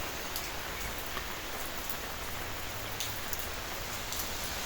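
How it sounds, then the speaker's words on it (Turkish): Heavy rain pours steadily outdoors in Germany, a dense, even hiss with scattered drips and patters close by, and no voices. "Çünkü aşırı derecede yağmur yağıyor."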